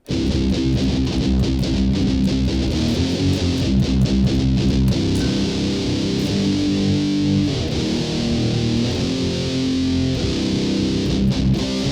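Heavily distorted electric guitar with an old early-era tone from a Digitech PL1 Fly Rig, playing a loud, dense, continuous riff with thick low chugging and no voices.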